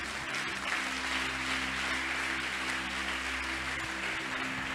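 Steady, dense applause from a church congregation, continuous and even throughout with a low sustained hum beneath, fairly distant and uniform.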